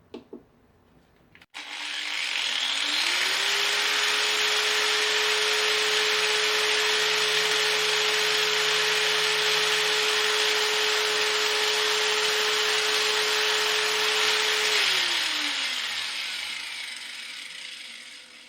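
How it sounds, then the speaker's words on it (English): An angle grinder powered by a Jackery Explorer 500 portable power station spins up after a click, holds a loud, steady high-pitched whine for about twelve seconds, then winds down and fades. "it was hard to hear because the angle grinder was running"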